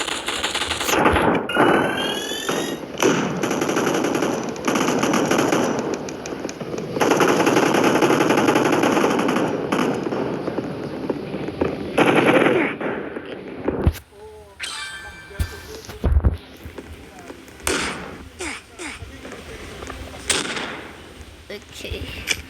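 Rifle gunfire from a gun-fight arena video game rattles loudly in rapid bursts through the first half, then breaks into sparser sharp shots and clanks, with a voice talking intermittently over the action.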